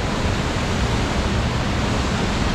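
A waist-deep river in Costa Rica with slippery rocks rushes steadily, a dense, loud, close wash of flowing water with no break and no talk.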